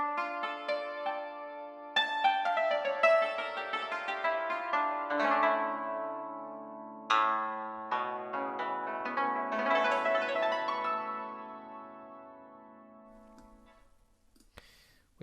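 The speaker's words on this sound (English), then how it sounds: "Then we have the yangkin. Sounds like this." Struck-string yangqin from an orchestral sample library, a run of bright hammered notes with shimmering sustained overtones that ring out in several phrases and fade toward the end, played alone with no talk.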